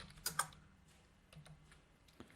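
Keys tapped on a computer keyboard while writing code, a few quiet separate clicks with a brighter double tap near the start, close and faint, no voices.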